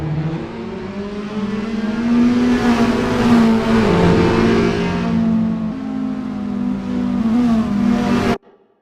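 Toyota S-FR race cars in the sim racing game Assetto Corsa roar loudly and continuously as they accelerate, the engine pitch climbing and dipping through gear changes before cutting off abruptly.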